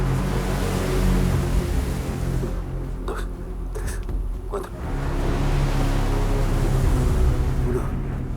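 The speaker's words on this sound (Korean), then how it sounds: "보이는 건 모래고 들리는 건 파도뿐인 상황" Ocean waves surge and wash at the foot of a sandy cliff, a continuous roar that swells and ebbs, with a voice talking over it.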